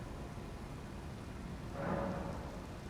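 Steady rain falls in the video game Elden Ring, a continuous dense hiss with a brief swell of brighter noise near the end, alone with no talking.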